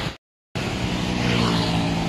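After a brief moment of silence, a UD Quester trailer truck rumbles past close by on the road, a loud, steady engine drone and tire roar that swells slightly as it passes.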